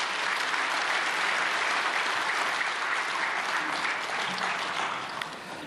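Steady, dense applause from a large church congregation welcoming a pastor at a prayer meeting for peaceful reunification fills the whole stretch, easing slightly near the end.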